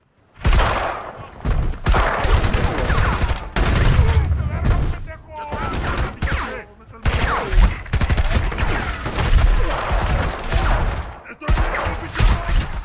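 Rapid bursts of gunfire crack over a tense film soundtrack, shots in volleys with brief pauses, loud and close.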